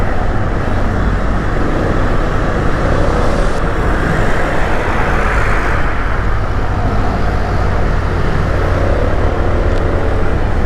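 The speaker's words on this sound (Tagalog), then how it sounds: "Kaya lang daming truck mga boss." Heavy road traffic roars past a scooter rider near Camp Puor, a loud continuous rumble of trucks and cars with a swelling pass around the middle and no break throughout.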